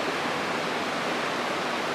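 Thalaiyar waterfall near Theni running full with lots of water, a steady, loud, continuous roar of rushing water with no break and no voices.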